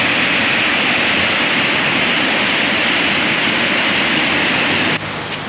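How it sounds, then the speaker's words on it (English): First waterfall of the Four Waterfalls Walk in the Brecon Beacons, Wales, a loud continuous roar of rushing water heard close up, steady throughout before dropping away abruptly at the very end. "down the steps to the first waterfall. You can hear it down here."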